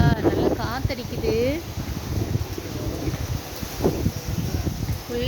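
Gusty wind buffets the microphone with a constant low rumble while a person talks over it.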